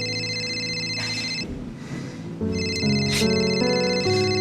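Telephone ringing in a home with a bright electronic ringtone melody that repeats steadily, clear and close, with a brief muffled break midway and no one speaking.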